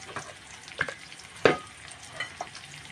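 Yellowfin tuna steak going into a hot pan, a soft crackling sizzle broken by a few sharper pops and spatters, fairly quiet with no talk over it.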